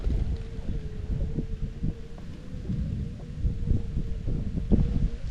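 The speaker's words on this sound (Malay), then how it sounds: "Kuat angin." Strong wind blows outdoors beside a fast-flowing river during a fishing trip, a steady low roaring rumble with gusty swells that buffet the microphone throughout, no voices.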